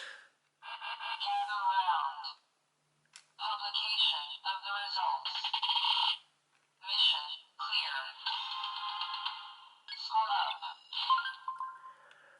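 A DX Spider Phone toy plays its mission-clear sound effects: bright, tinny electronic tones and jingles from a small speaker, heard close in several bursts separated by short silences.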